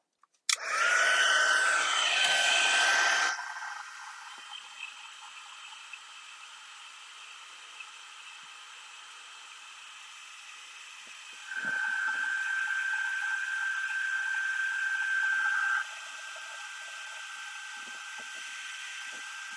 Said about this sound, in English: pardon the noise for a moment while I heat set this